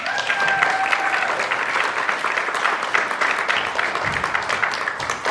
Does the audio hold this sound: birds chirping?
no